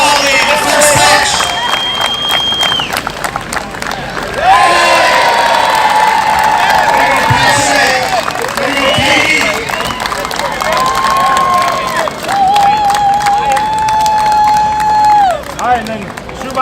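Crowd at a charity softball tournament in a Chicago park cheering and clapping around a ceremonial first pitch, loud and continuous with shouts and whoops, children's voices and a host talking over it.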